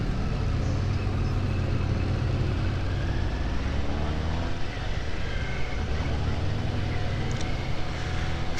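Suzuki GSX-S750 four-cylinder motorcycle engine while riding, a loud, steady, smooth low drone with rushing wind noise holding evenly throughout, with no pauses or breaks.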